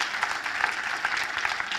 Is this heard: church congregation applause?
yes